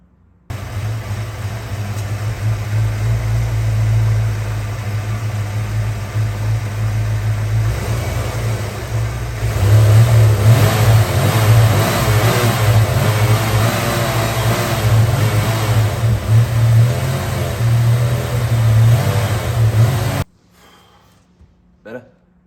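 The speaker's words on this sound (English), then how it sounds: "it is still idling a bit rough. However, it seems to be dry, a little better under, throttle." A Foxbody Mustang 5.0 GT V8 idles a bit rough with a deep, steady rumble, then swells under blips of throttle for several seconds before cutting out abruptly.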